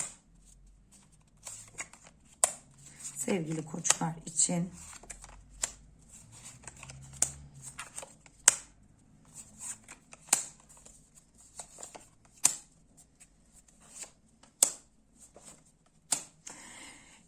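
Playing cards used for a tarot reading are shuffled and snapped in a steady run of crisp, sharp riffles spread across the stretch, with a short spoken phrase near the start.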